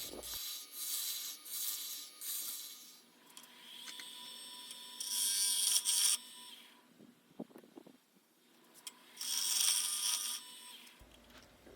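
Spindle gouge cutting hardwood on a lathe while turning a pizza cutter handle, a steady scraping hiss over a constant motor hum, with two louder bursts of cutting and a short pause between passes.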